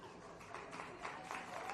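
A scattered round of applause from spectators at a women's football match between Sydney University and UNSW as a substitution is made, soft and distant claps swelling slightly over a faint crowd murmur.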